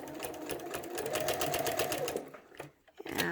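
Rapid, evenly paced stitching from a sewing machine with a walking foot quilting fabric, loud and close, slowing and stopping briefly near the end before a short restart.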